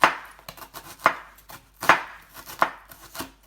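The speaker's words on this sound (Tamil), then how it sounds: "நம்ம அதுக்குள்ளே வந்து வெங்காயத்தை கட் பண்ணிக்கலாம்" Onions sliced with a knife on a cutting board while preparing mushroom biryani: four sharp, close chops spaced about a second apart, separated by quieter, softer knife sounds in between.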